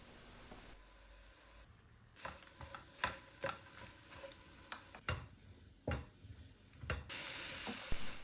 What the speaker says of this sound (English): and saute for about 30 seconds.